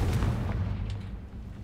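Explosive spell blast from the Hogwarts Legacy video game: a single low, rumbling boom that fades over a second and a half, moderately loud with no voices.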